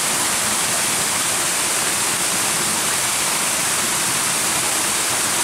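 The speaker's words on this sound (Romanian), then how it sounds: "O cascadă în două trepte, spectaculos." A two-tier waterfall in the Tecșești gorge pours with a steady, loud, broadband roar that stays constant throughout, with no voices.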